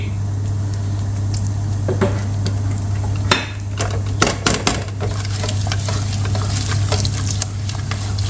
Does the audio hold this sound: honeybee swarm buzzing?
no